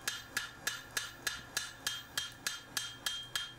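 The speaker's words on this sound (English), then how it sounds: "Go tidy it up now with the smaller hammer." Steady, evenly spaced blows of a small hand hammer forging a chopper hand axe on an anvil, about three strikes per second, close and sharp with a bright metallic ring after each hit.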